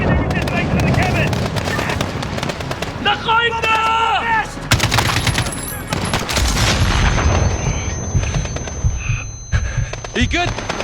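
Rapid gunfire and heavy explosive blasts in the video game Modern Warfare, loud and dense throughout, with bursts of automatic fire, booming detonations and radio voices talking over the combat.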